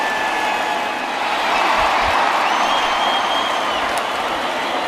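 A simulated baseball stadium crowd in a Rockies–Brewers video game, a broad steady roar of cheering that swells slightly midway and holds at high loudness throughout.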